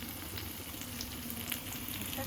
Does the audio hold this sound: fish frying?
yes